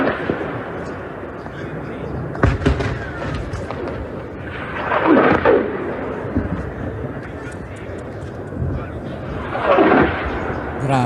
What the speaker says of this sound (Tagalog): Kita sa video na sunod-sunod ang pagpapakawala ng rocket ng Hamas mula sa Gaza